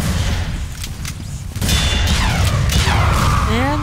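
Gunfire and explosive bursts in Team Fortress 2 on a crit server, loud and continuous with a sharp surge halfway through, layered under game chatter and whistling projectile tones.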